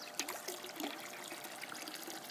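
Water flows out of a swimming pool solar heater pipe in a gentle, steady trickle, faint and close, with soft splashing that stays even throughout.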